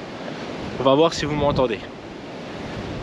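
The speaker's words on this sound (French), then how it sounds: "Par contre il y a du vent, hein, clairement." Strong, gusty wind on an open mountainside roars steadily into the microphone outdoors, with someone speaking briefly in French over it.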